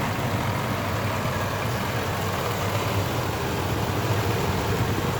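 A truck engine idles steadily with a constant low rumble and a busy mechanical ticking clatter from a noisy valve cover layered on top, no speech.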